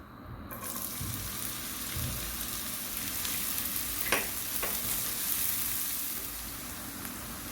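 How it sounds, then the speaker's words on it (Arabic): Chopped onions sizzle in a spoonful of hot fat in a pan, a steady close frying hiss with a few brief clinks and stirring noises partway through. "هاي عندي ملعقة دهن، راح اضيف البصل،"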